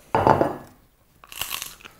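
Microwaved prawn crackers are bitten and chewed close to the mic, giving a loud burst of crisp crunching, then a pause, then a second, lighter round of crunching.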